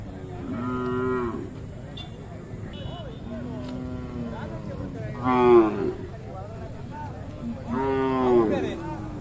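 Cattle and calves at the Magadi cattle fair low in three drawn-out calls, spaced a few seconds apart, with the later ones louder, over a busy outdoor background.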